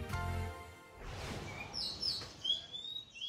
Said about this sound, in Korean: 거리에 들어서자마자 상쾌한 새소리가 맞이하는 이곳.